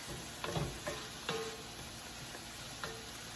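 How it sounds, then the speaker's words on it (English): Onions frying in a pan for pasta sauce, a faint, quiet sizzle with a few soft stirring knocks and scrapes at irregular intervals. "All right, so our onions are doing good here."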